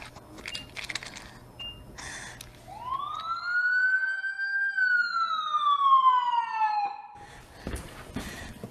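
An ambulance siren in a virtual reality naloxone training scenario rises and sweeps in one long, loud wail, with scattered clatter before and after.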